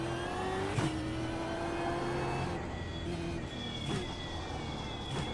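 Supercar engine on an Australian track in the iRacing sim, a moderately quiet engine whine that climbs through gears, with sharp shift blips and steady rising pitch.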